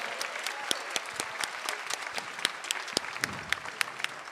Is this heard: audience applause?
yes